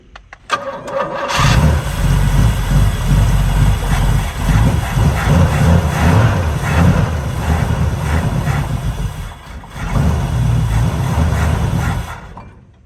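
A barn-find Pontiac GTO cranks, catches on the choke and roars into a loud, rough run close by, dipping briefly before revving up again and then cutting off.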